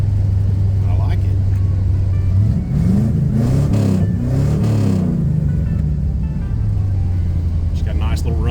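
A car engine revs through DIY dual exhaust mufflers, a loud close rumble that idles steadily, rises and falls through several throttle blips, then settles back to idle.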